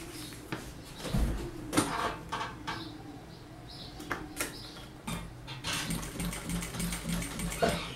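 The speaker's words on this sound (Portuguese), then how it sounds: "E eu vou passar a costura rentezinha a esse material aqui." A sewing machine stitching close along the edge of a handmade modular planner with an 18 needle, running in short bursts of rapid mechanical whirring and clicking separated by brief pauses, fairly quiet and close.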